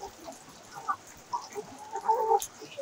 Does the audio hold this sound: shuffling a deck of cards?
no